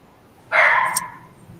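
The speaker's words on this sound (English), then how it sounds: "No, that's his dog." A dog gives a single short bark, fairly close and loud, then it fades out over a quiet room with no talking.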